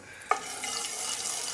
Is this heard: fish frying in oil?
yes